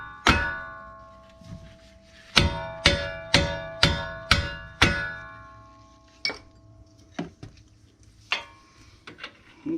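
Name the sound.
hammer striking metal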